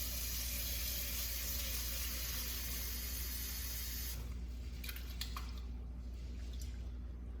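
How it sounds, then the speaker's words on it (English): Cold tap water pours into a saucepan of dry lentils, a steady broadband hissing spray for about four seconds that then cuts off, leaving a quiet room with a few faint drips and light clinks. "add it to a saucepan right here, and then cover it with cold water."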